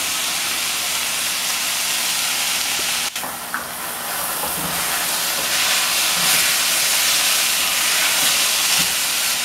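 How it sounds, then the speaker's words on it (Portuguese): Chopped onion sizzles in a pot where sausage was just fried, a loud steady hiss with a sharp burst as it hits the hot fat, continuing without speech. "Agora nós vamos fritar a cebola"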